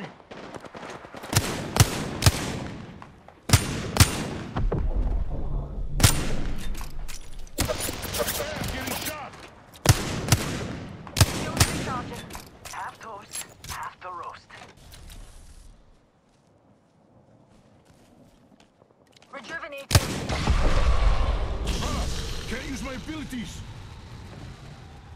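Gunfire in Apex Legends crackles in repeated bursts, loud and close, alongside in-game voice callouts, followed by a short lull and another heavy burst near the end.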